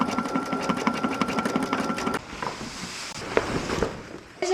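An embroidery machine stitches onto canvas in a workshop, a fast steady mechanical rattle of needle strokes for about two seconds that then stops, leaving quieter shuffling and handling noise.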